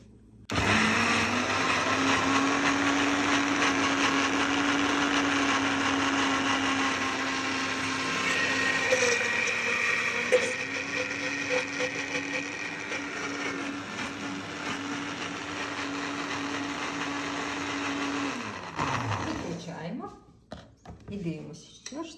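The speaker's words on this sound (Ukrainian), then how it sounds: "і знову включаємо блендер" An electric blender whirring steadily while mixing homemade mayonnaise, a loud sustained motor whine that shifts pitch partway through before switching off near the end.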